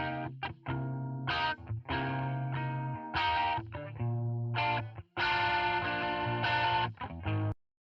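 Electric guitar through an AB Phaser giving a subtle Leslie-like vibrato, playing sustained notes and short phrases with a gently swirling, wavering tone, clear and up front with no talking.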